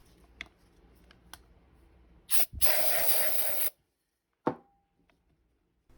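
A short puff of aerosol degreaser sprayed into the piston bore of a Paslode nail gun, then a steady hiss lasting over a second, followed by a sharp knock. Quiet surroundings otherwise.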